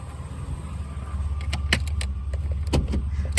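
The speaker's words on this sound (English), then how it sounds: "I'll pop open the trunk" The trunk of an Oldsmobile Ciera SL is opened with a series of sharp mechanical clicks and clunks over a low steady hum, close and fairly loud.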